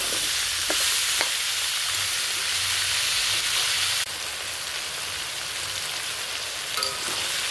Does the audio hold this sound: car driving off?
no